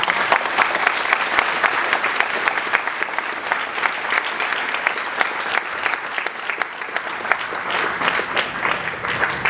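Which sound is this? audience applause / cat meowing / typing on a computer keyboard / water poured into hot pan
audience applause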